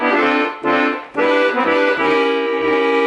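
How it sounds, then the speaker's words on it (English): Accordion playing the first ending of a song: a few short, loud, close chordal phrases over a bass, separated by brief breaths of the bellows. "first ending sounds like this again."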